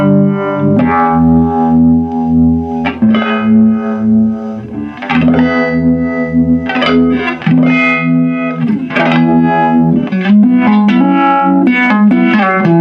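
Fender TreVerb pedal with tremolo at full intensity and slow speed plays guitar chords through an amp, the sustained notes pulsing steadily in loud, throbbing volume swells with a little reverb and no talk.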